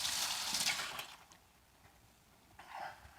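Running water rinses a spatula at a kitchen sink while making copycat Arby's Horsey Sauce, a steady splashing flow that dips briefly in the middle and swells again.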